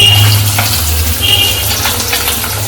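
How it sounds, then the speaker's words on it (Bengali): Fish fries loudly in a pan at a home kitchen, a dense continuous sizzle with a low steady hum beneath, close up and with no talk. "এখানে হচ্ছে মাছ ভাজা"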